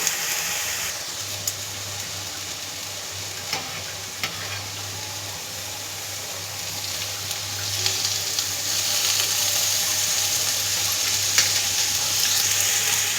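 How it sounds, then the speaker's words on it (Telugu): Three spoons of oil heating in a pan for chutney, with a steady low sizzle and hiss running throughout and growing slightly louder near the end, plus a few faint clinks; no one talks. "దీంట్లో నూనె పోద్దాం, 3 స్పూన్లు నూనె పోద్దాం."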